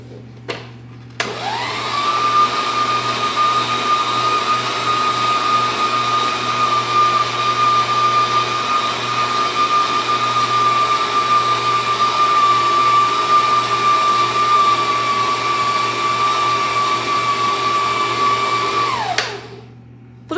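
Stand mixer with its paddle beating chocolate brigadeiro cake batter, a steady loud motor whir that starts abruptly, holds an even pitch for about eighteen seconds, then cuts off.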